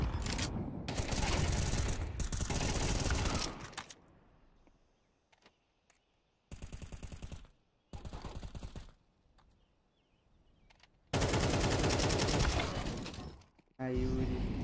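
Gunfire in a professional Counter-Strike match between Furia and Virtus.pro at ESL Pro League, loud sustained bursts of rapid shots separated by quieter gaps, with commentators talking.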